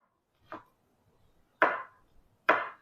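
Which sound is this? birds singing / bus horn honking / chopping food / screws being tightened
chopping food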